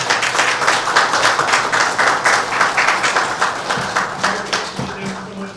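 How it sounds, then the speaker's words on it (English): Applause for an assistant coach at a city council meeting, a dense wash of many hands clapping steadily for several seconds and then thinning out as it ends. "Everybody give them a round of applause."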